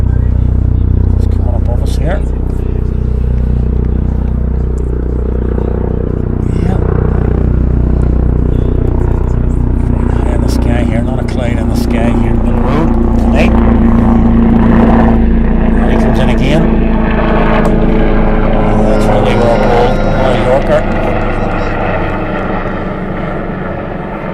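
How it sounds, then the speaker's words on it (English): A helicopter passes overhead during a T20 cricket cup match, a loud, sustained rumbling engine drone that swells and lingers under continuous commentary. "Helicopter above. You can probably hear it coming in."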